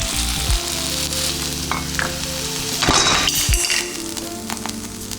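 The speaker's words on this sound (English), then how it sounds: "Last but not least, we're making our smash burgers. I heat up some olive oil, nice and hot." Smash burgers fry in hot olive oil on high heat, a loud, continuous close sizzle with scraping stirs and a couple of sharp metallic clinks partway through.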